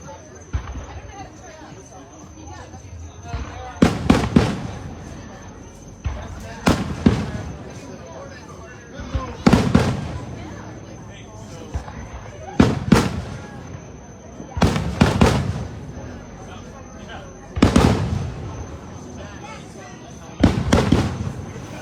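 New Year fireworks burst in a steady series of loud, sharp explosions roughly every two to three seconds, each followed by crackling, with a crowd chattering and people talking throughout.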